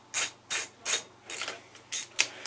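Tools working on a BMW R1200GS Adventure to take off its stock guards: seven short, bright ratcheting bursts in a steady rhythm, close and moderately loud, with no talking.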